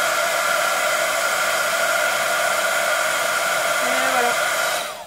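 Heat gun blowing steadily over scrapbook paper sprinkled with embossing powder, a loud continuous airy roar with a faint whine, holding for several seconds before cutting off.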